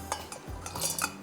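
Salt, black pepper and garlic are crushed together for pepper chicken, giving close, irregular clinks and gritty scraping strokes over a short stretch with no one talking.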